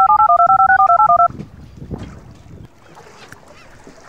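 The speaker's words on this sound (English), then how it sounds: "I can call Eleftherios on my pirate phone!" A toy pirate phone plays a rapid run of dialing tones, about a dozen even beeps, loud and close, followed by rustling handling noises and faint background sounds.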